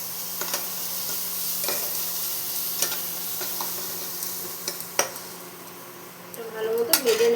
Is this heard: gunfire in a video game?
no